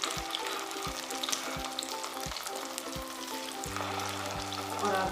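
Poha and potato cutlets fry in oil with a steady, bright crackling sizzle under soft rhythmic background music, no talk.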